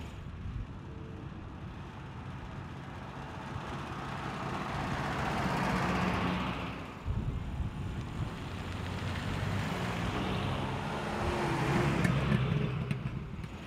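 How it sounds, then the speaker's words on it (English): A 1964 Land Rover Series 2 on the move, its engine droning under steady road and cabin noise, rising and falling as it accelerates and changes gear over about fourteen seconds. "now we are on board a Series 2 car from 1964."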